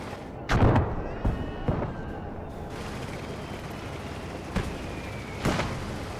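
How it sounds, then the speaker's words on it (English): Mortar rounds fall in a war video game, a handful of heavy, booming impacts spaced irregularly over a low rumble, some sharp and close, others duller and farther off. "Let's halt the mortar barrage and go make the final push."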